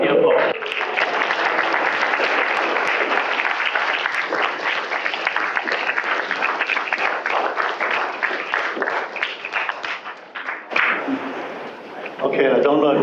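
A lecture audience gives a hearty round of applause for Cleo Rumpakis, with dense continuous clapping filling the room for about ten seconds before tapering off.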